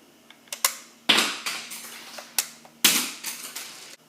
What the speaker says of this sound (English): You simply press them to launch the missiles.